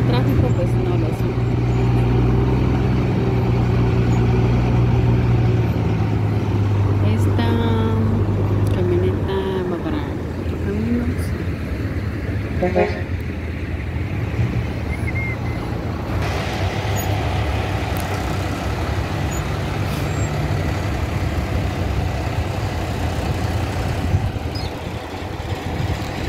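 Road traffic with trucks and buses on the road to San Francisco El Alto near Xela, a continuous low engine drone with passing heavy vehicles and occasional horn-like tones, a voice speaking over it at times.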